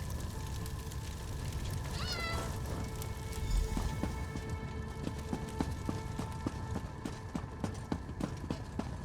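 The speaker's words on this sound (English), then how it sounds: "Not another cat. I hate cats." A cat meows in Elder Scrolls Online amid the game's ambient soundscape, a short rising cry followed by steady hoof clip-clops and scattered ticking sounds, with no talk.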